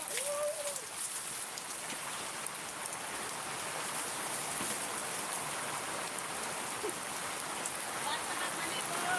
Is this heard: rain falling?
yes